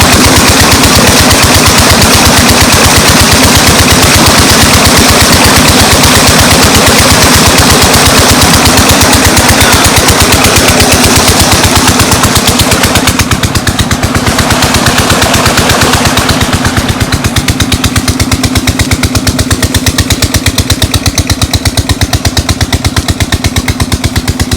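A Peter engine, likely a farm diesel, runs loud and steady after starting, a continuous rapid chugging rattle that stays close and dominant throughout with no talk.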